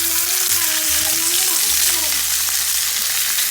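Cod fillet pan-searing in a hot pan gives a continuous, loud, close sizzle that holds steady throughout, with no break.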